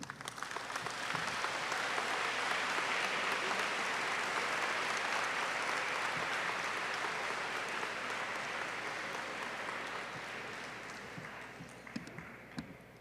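A large audience at the closing of the 2022 AMEI congress claps steadily for about ten seconds. The applause is dense and even, then thins toward the end, with no talking over it.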